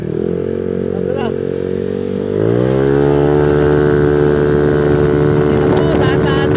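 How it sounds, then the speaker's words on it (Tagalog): A Yamaha NMAX scooter engine runs after being started without a key, holding a steady idle hum that climbs in pitch and loudness partway through, then settles into a louder, even drone. "Testingin natin kung mapapagana natin yung motor niya."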